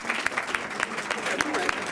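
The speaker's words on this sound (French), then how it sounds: "applaudissements pour Madame Lisette, s'il vous plaît" Applause ripples through a New Year and back-to-school ceremony, a brief patter of clapping from an audience, with a voice talking over it.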